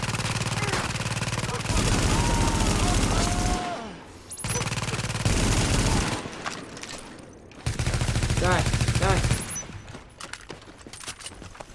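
Sustained automatic gunfire in The Division at the Hudson refugee camp, loud repeated bursts broken by brief pauses, with a voice talking between volleys.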